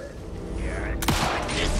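Pistol gunfire in the video game Alan Wake 2, a single sharp shot with a booming burst and a short tail, heard over low background game noise.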